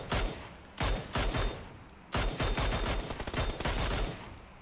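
Bursts of rapid gunfire from a Mini 14 rifle in PUBG on console, loud and close, coming in several volleys separated by short gaps.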